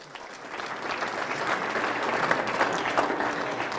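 Steady applause from a civic audience at a State of the City address, a moderately distant wash of clapping that swells slightly and carries on without talk.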